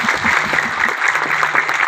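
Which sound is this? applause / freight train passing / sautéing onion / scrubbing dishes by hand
applause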